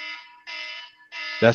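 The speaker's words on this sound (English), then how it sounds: "alarm for me to go to work" A work alarm sounds in three repeated electronic beeping bursts, loud and close, with a brief voice cutting in at the end of the last burst.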